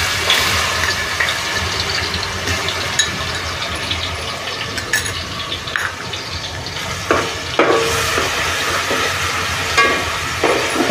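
Ginger, garlic and chili paste sizzles steadily in hot oil for pav bhaji, a loud, dense crackling hiss with brief bursts of stirring, no voices.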